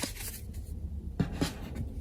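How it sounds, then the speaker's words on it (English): Tarot card decks are shuffled by hand in soft, papery rustling bursts, with a few sharper riffles near the middle, close up and fairly quiet, with no talking. "Let me shuffle my decks here a little bit"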